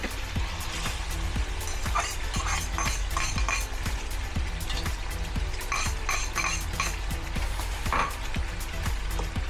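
Garlic fries in a pan for Ilocano dinardaraan, giving a steady, dense sizzle throughout with occasional light clinks and scrapes of a utensil stirring against the pan.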